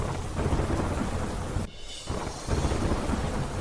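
Heavy rain pours down in Delhi with a dense, constant roar of drops on surfaces, dipping briefly midway before resuming at full intensity.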